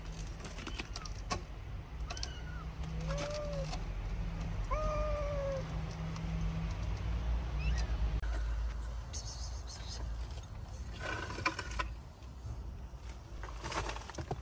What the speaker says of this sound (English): The mother cat is nursing the kittens.